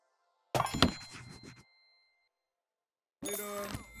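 Two bright bell dings from a barista coffee-shop video game, each a sharp struck chime with ringing harmonic overtones, loud and close, separated by a couple of seconds of silence.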